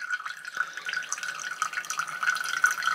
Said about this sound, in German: der Filter filtert im vollen Durchfluss. Das funktioniert sofort. Läuft sogar von alleine.